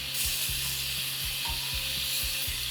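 Marinated chicken bulgogi sizzles steadily in a hot pan cooked without a barbecue, a constant close hiss with soft repeated scraping or shifting sounds underneath and no voices.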